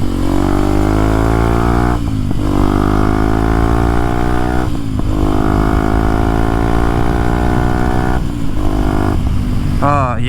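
Small motorcycle fitted with cruise control and a windshield, its engine running with a strong, steady buzzing drone broken by a few brief dips, loud and close, with someone talking over it.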